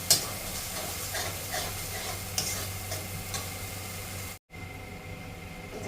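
Spice paste for a chhana curry sizzles and fries in a pan with a splash of water, a steady close hiss broken by scraping stirs, briefly cutting out near the end before resuming.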